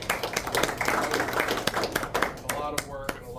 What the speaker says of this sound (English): Can we give them a round of applause for just working on this?